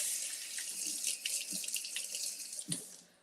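Water runs steadily from a kitchen sink tap as food is washed under it, with a close, continuous splashing hiss and a few clunks from the sink before the flow fades.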